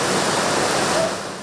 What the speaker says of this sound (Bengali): বেলা বাড়ার সাথে সাথে বেড়েছে বৃষ্টি